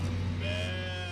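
A sheep in a flock bleats once, a drawn-out wavering call heard fairly close over a steady low background hum.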